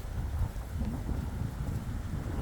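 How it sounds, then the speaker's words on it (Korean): Strong wind blows outdoors under a heavily clouded sky, a continuous low, rumbling roar buffeting the microphone with no pause and no voices. "와 바람 엄청 부네"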